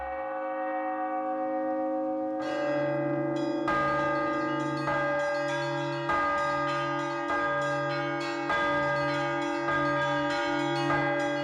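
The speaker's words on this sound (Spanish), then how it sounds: "El repique de campanas de la iglesia es otra sorpresa para los turistas." Church bells of Saint Basil's Cathedral in Moscow peal continuously, several bells striking in overlapping rhythm with long ringing tones, fairly close and full, with no voices.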